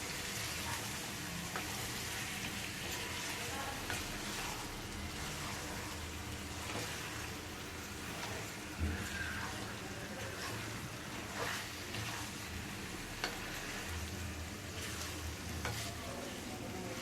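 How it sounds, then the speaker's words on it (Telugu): Chicken fries in a pan with a dense, steady sizzle and frequent scraping stirs, close and continuous, with no one speaking. "చికెన్ మొత్తం కలుపుకొని ఫ్రై చేసుకోవాలి."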